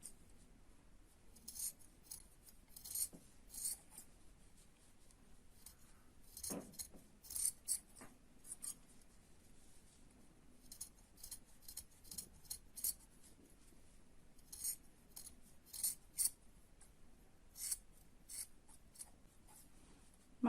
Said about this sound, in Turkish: makasınızın güzel kesmesi gerekiyor arkadaşlar